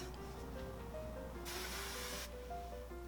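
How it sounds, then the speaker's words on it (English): A single short hiss of hairspray, sprayed to hold a wavy curl set in place, bursts out for under a second over faint background tones. "So I'm just gonna kind of spray that into place."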